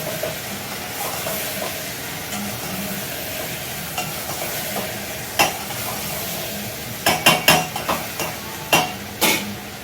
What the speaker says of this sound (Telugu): సో ఇప్పుడు మొత్తం కలిపి తిప్పేస్తున్నాం